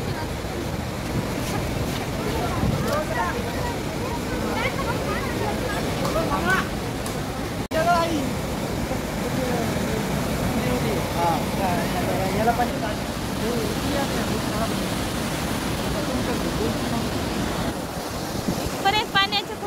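Sahastrakund waterfall in flood, rushing water and blowing spray heard as a continuous heavy roar with wind buffeting the microphone, close and loud, with people talking faintly underneath.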